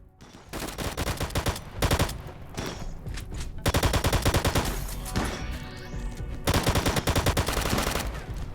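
Rapid bursts of gunfire from the video game Rimworld strike armored colonists in repeated loud volleys, separated by short gaps.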